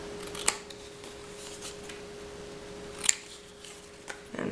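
Scissors snip through fabric at a tag in a few brief, crisp cuts spaced over several seconds, close and fairly quiet over a steady low hum.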